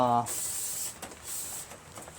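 Aerosol brake cleaner hissing from a can in close, sharp bursts with short pauses, sprayed onto an old duct-taped lawn tractor seat, after a brief voice at the start.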